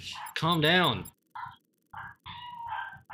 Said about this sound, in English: You can hear my dogs in the background.